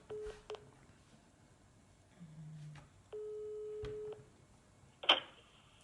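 Several telephone keypad tones beep one after another, separated by brief pauses and one longer held tone, followed by a short click, all fairly quiet.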